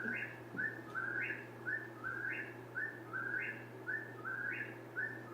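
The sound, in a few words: whippoorwill song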